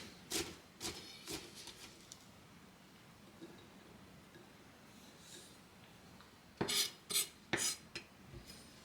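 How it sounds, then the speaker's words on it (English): A knife finely chopping green onions on a cutting board, heard as sparse sharp taps at first, then a quick close burst of crisp strikes near the end, with quiet gaps between. "Finely chop the green onions."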